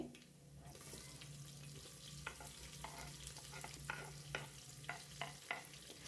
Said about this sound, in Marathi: तो कांदा आपल्याला तेलावर सोडून द्यायचा आहे बघा इथे